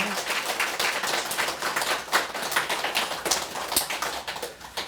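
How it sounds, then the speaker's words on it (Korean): An audience at a Buddhist academy research presentation applauds in congratulation, producing a continuous, moderately loud patter of many hands clapping with sharp individual claps standing out. "한번 크게 박수로 축하해 주세요"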